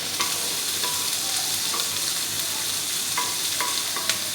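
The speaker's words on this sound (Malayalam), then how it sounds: "ചെറുതായി വഴറ്റിയതിന് ശേഷം ആ ക്യാപ്സിക്കവും ഇട്ടൊന്ന് വഴറ്റുക" Onion and capsicum sautéing in a pan for an egg sandwich, a steady close sizzle with occasional light clicks of a spatula stirring, no voices.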